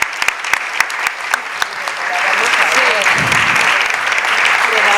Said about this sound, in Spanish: le damos un fuerte aplauso a todas las compañeras